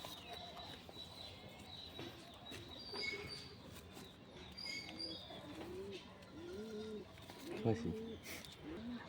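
Soft cooing from Giribaz and Madras pigeons repeats at intervals alongside faint chirps and rustling, with quiet voices in the background.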